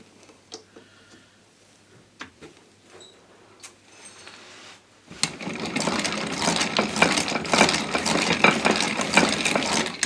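Hand-cranked winch turned as a small generator, heard up close. After a few scattered ticks and clicks, the cranking starts and gives a busy, continuous ratcheting clatter of gears.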